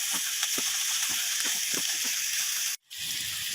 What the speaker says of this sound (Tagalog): Yan, kaya natin maluto yung palaya guys, bago natin ilagay yung itlog.